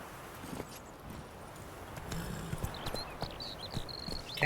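Roach, the horse in The Witcher 3, canters with soft hoofbeats under a steady game ambience, growing slightly louder toward the end, with a few light chiming tones overhead.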